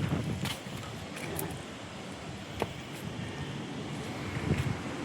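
Wind blows and buffets against the microphone in a steady, rough rush, with occasional faint knocks and clatter underneath.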